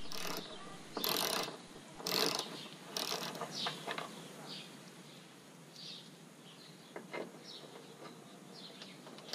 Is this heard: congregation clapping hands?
no